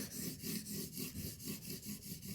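A knife is sharpened on a stone with a scrubbing action, producing soft, rhythmic rasping strokes about four per second, faint and alone.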